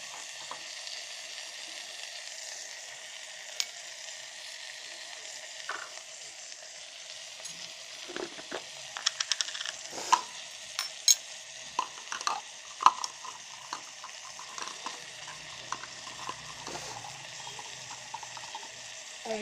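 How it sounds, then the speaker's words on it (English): Dry masala Maggi noodles are stirred inside an electric kettle, a faint continuous hiss and sizzle with scattered light scraping and clinks of the utensil against the kettle, quiet and close, no talk. "Mix it well."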